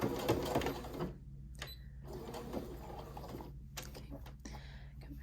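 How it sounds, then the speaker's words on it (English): A new sewing machine used without a presser-foot lever runs in short stitching bursts, close and moderately loud, with a voice talking over parts of it. "this is a new sewing machine"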